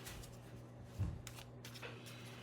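Soft, quiet shuffling of tarot cards, a few brief papery riffles and slides close by.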